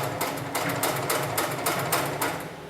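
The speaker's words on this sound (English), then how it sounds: "set my foot back down and continue sewing" An industrial sewing machine for heavy materials stitches textile webbing, a loud, steady mechanical chatter with regular pulsing bursts running throughout, close and alone with no talk.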